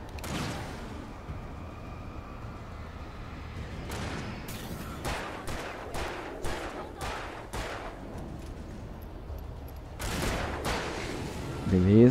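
Gunfire in Alan Wake Remastered: a single heavy shot, then a rapid string of six booming blasts, and a final burst near the end, all loud over a low murky game ambience.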